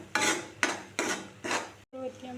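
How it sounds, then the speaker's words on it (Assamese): A utensil stirs turmeric, cumin powder and salt in a pan for a paneer dish, four rhythmic scraping strokes close up, each a rough metallic sweep, then a short pause and a softer clink. "এতিয়া ভালদৰে লৰাই দিলোঁ।"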